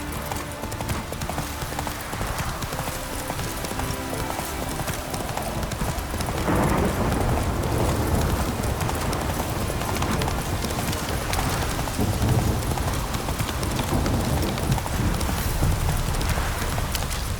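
Roach the horse's hooves clip-clop steadily in The Witcher 3: Wild Hunt, a continuous close trot over game music and ambience, growing busier partway through.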